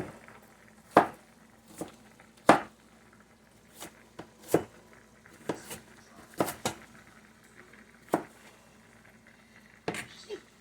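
A knife chops through a crisp onion on a cutting board, producing a series of sharp, irregular thunks spaced a second or so apart, with quiet room sound in between and occasional low talk.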